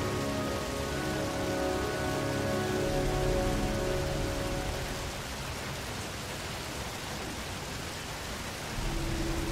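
Steady rain pours down in a dense, even hiss in the video game Heavy Rain, with a low tonal hum underneath that fades partway through before returning.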